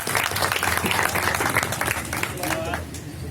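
An audience at an Independence Day foundation event applauds to welcome a speaker, dense steady clapping that fills the room and then tapers slightly, with a faint voice heard near the end.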